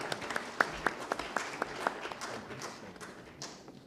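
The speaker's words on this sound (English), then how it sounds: "Loud applause, please" Sparse audience clapping at a technical textiles conclave memento presentation, a handful of distinct claps that thin out and fade.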